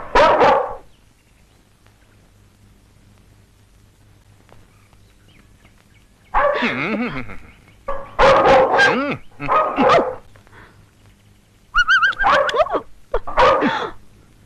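A dog barks in several loud, close bursts separated by quiet pauses, some barks coming in quick pairs.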